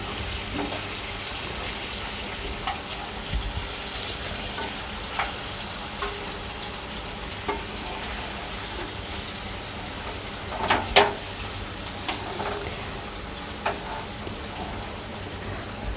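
Chicken leg pieces fry crisp in an oily pan, a steady crackling sizzle with scattered pops and a few louder stirring scrapes, heard close up with no talking.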